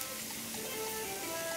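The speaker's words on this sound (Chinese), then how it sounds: "要慢慢煎它" Matsutake mushroom slices pan-frying over medium-low heat give a steady, soft, even sizzle with no pauses, heard alone and fairly quiet.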